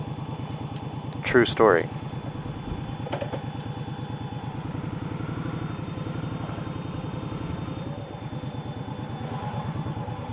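An Indian Scout Sixty motorcycle engine idles with a steady, low, rhythmic putter throughout, while someone briefly speaks over it near the start.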